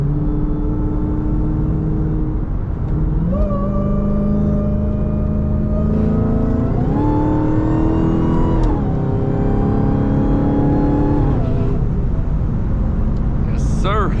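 A Dodge Hellcat's supercharger whine rises and falls with gear shifts as it drives through busy traffic, a loud, continuous engine drone heard from inside the car with accelerating pitch sweeps.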